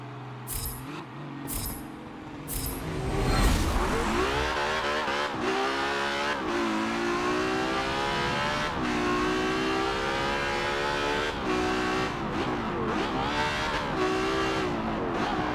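A Ferrari Superfast engine in the Forza Motorsport 7 racing game revs loud and close, climbing through repeated gear shifts with brief tire noise, heard alone.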